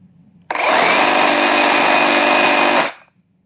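A Flex or Metabo HPT reciprocating saw run at full speed, starting abruptly into a loud, steady, high buzzing whine that holds for over two seconds before cutting off and winding down.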